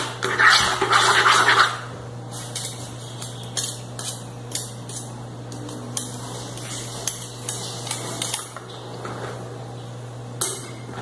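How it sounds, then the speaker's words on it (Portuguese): A spoon breaks up five eggs in a bowl while making quick corn bombocado, giving light clinks and scrapes against the bowl, louder at first, then softer scattered taps over a steady low hum. "A princípio eu vou dar uma desmanchada aqui com a colher."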